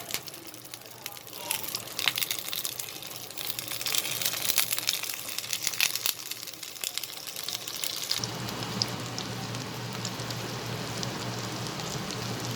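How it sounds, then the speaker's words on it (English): Pointed gourd pieces frying in hot oil in a home kitchen for a yogurt curry, a steady crackling sizzle that swells sharply partway through and then holds constant. "I'll put all my pointed gourd and now I'll fry them up nicely"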